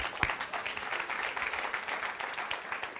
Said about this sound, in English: afterwards, a round of applause